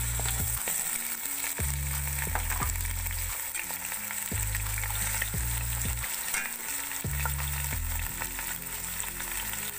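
Two kilos of beef with several large bones frying in hot oil for nihari, a continuous loud sizzle with repeated stirring scrapes and clatters at a steady, close rhythm.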